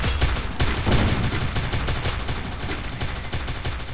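Rapid, continuous bursts of P90 submachine gun fire in the Free Fire video game, loud and close, crackling without pause through dense in-game action.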